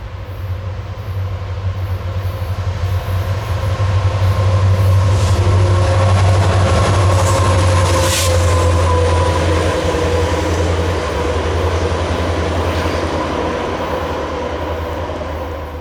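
A pair of light helper locomotives, engines 7229 and 7230, roll past on mountain rails near Altoona, a loud, deep diesel rumble that swells, holds steady and slowly eases off over about sixteen seconds.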